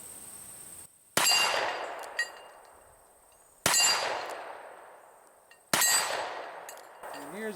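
.38 Special handgun rounds strike a steel plate three times, each a sharp, loud metallic clang that rings and fades slowly over a couple of seconds, with faint ambient hiss between hits.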